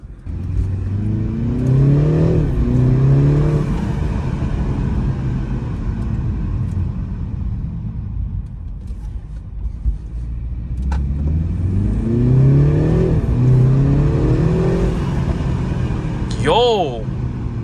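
BMW G20 engine with modified stock intake revving up in rising sweeps in Sport Plus mode, twice, with a deep throaty drone between, heard from inside the car.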